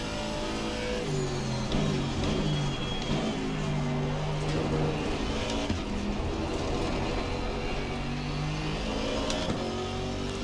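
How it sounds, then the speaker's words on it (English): A McLaren GT race car engine in Assetto Corsa Competizione, racing at Zolder, roars steadily under hard acceleration through gear changes, loud and close, with other cars droning alongside and no voices. "That McLaren seems to have good acceleration."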